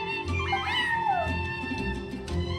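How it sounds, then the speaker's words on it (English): A single drawn-out meow from a cat sitting on a windowsill in the Genshin Impact game, a sliding mewing cry close by over a low steady hum. "I'm sorry, that's my neighbor's cat."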